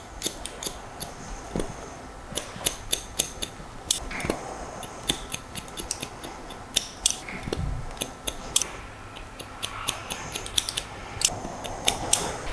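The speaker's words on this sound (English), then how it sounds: "What I'm going to do is I'm going to cut the length to where we want it, like so." Scissors snipping through hair while cutting it to length for a textured wispy fringe, close crisp irregular clicks and shearing snips spread across the clip, with no talking.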